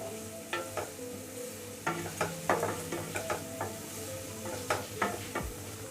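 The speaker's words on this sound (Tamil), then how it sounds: "இப்போ வெங்காயம் கொஞ்சம் வதங்கட்டும்." Onions sizzle and sauté in a pan, soft frying crackle under repeated scraping stirs of a spoon, close by with no talking.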